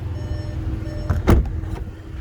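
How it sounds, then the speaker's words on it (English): A 2021.5 VW Atlas 3.6 SE SUV is unlocked, giving a short mechanical click-and-whirr of the locks against quiet outdoor background hum, with a soft second click shortly after. "so let's unlock it here"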